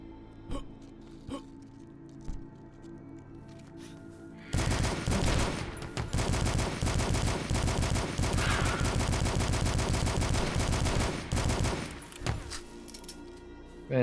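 Enemies in the retro shooter Dusk open fire, with a sudden burst of rapid, dense gunshots that runs for several seconds before stopping abruptly, loud and close, after a few sparse isolated shots.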